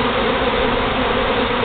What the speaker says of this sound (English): I'm trying to scoop them into the hive